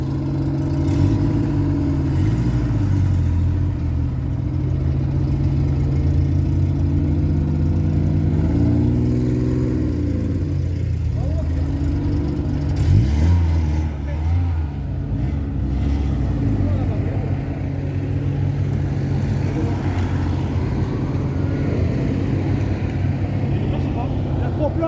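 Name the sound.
Peugeot 205 GTI 1.9 litre engine revving at a rally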